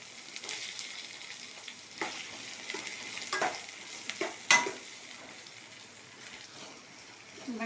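Onions and garlic sizzle and fry in a hot pan, a soft continuous crackle broken by occasional stirring scrapes and a sharp clack, fairly faint and close, with no talking.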